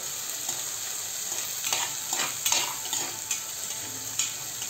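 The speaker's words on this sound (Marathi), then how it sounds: "आणि या व्हेजेस छान परतून घेऊया।" Salted mixed vegetables for Kashmiri pulao are stir-fried in a pan, giving a steady sizzle broken by a few louder scraping stirs, close up with no talking.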